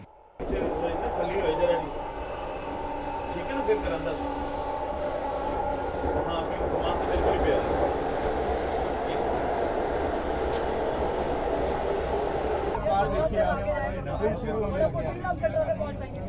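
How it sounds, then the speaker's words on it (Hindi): A train on the Chenab railway route passing Reasi railway station among mountains: a steady rumbling roar of wheels and carriages from on board, with a shift in tone near the end, as someone talks over it. "फिलहाल अपनी ट्रेन रियासी रेलवे स्टेशन को पार कर रही है"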